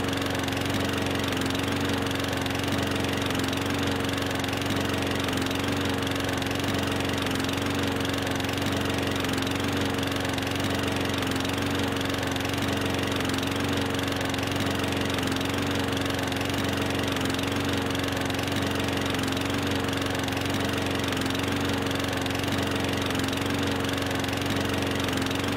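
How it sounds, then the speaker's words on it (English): A push lawn mower engine idling in the Farming Simulator 15 game runs as a loud, constant, even chugging drone for the whole stretch, with no voices. "this is our Farming Simulator 2015 push mower"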